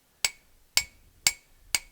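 Four sharp, evenly spaced hammer blows ring out on a small scrap steel piece being forged into a knife, each metallic strike bright and clear with a quick decay, about half a second apart in a quiet space.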